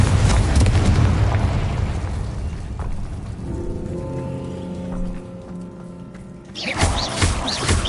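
A Confringo fire-blast spell goes off in Hogwarts Legacy, a loud booming burst that rumbles and fades into crackling and ringing tones, then a second whooshing surge near the end, with no talking.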